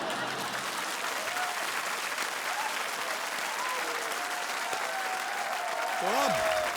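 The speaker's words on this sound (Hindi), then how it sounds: "तो अब ऐसी शानदार तालियों की उपस्थिति में" Steady, dense applause from the studio audience of the Indian quiz show Kaun Banega Crorepati fills the room, moderately loud and continuous, with a few whistles or cheers rising near the end.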